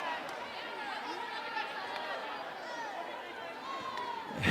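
Crowd at a Liberty women's college basketball game at GCU, a steady arena murmur of many voices holding at a constant level, swelling slightly at the very end.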